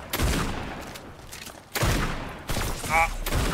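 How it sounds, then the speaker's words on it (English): Suppressed sniper rifle shots in Fortnite: three heavy, muffled reports spaced roughly a second apart, each followed by a short decaying tail, with a brief voice-like sound near the end. "Boom, I got him with a sniper."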